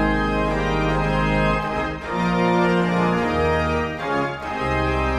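A rare pipe organ plays the great manual with all stops drawn except the trumpet, a loud, dense, sustained chord texture shifting through several changes, alone and with no talk.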